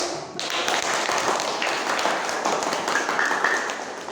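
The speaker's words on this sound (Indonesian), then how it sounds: "Silakan tepuk tangan" Students in a junior high classroom break into a burst of clapping that starts abruptly and continues as a dense, even patter of many hands for several seconds, with no talk over it.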